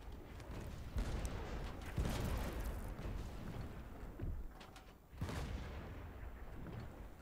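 Heavy booming ship cannon blasts from the video game Blazing Sails go off in a rapid, rumbling series, several deep thuds overlapping into a steady barrage with a couple of louder hits.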